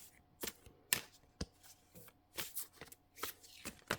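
Tarot cards being shuffled by hand, a series of quiet, close riffles and soft slaps in an uneven rhythm, with no talk over them.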